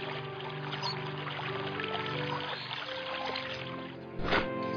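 Water poured onto a thirsty tree in an animated story, a soft, continuous splashing trickle over light background music, ending with a brief louder splash.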